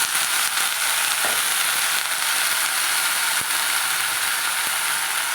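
Vegetables sizzle and fry steadily in a hot pan, a constant crackling hiss with occasional light clicks of stirring.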